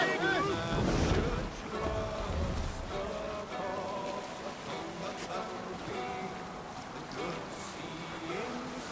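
A sailing ship at sea in Assassin's Creed Valhalla, with rushing waves and wind buffeting steadily under layered game voices and music.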